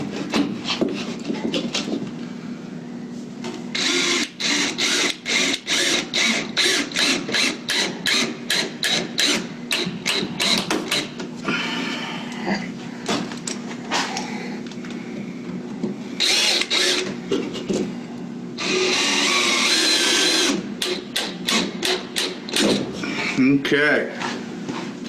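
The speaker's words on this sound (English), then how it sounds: "You just want the head of your screws just to dimple the drywall." A power drill driving screws into drywall during an air-sealing patch job, with repeated rapid bursts of whirring and rattling, some quick and some sustained, over a low steady hum and occasional speech.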